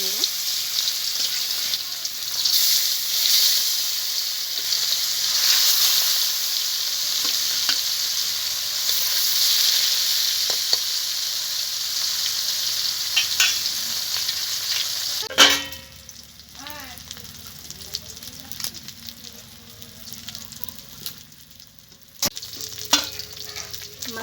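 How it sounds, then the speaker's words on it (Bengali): Fish sizzling and frying in hot oil in a pan, a steady bright crackle that drops sharply partway through, with a few clinks and stirring sounds afterward. "তেল গরম হয়ে গেছে, এবার আমি মাছগুলোকে ভেজে নেব।"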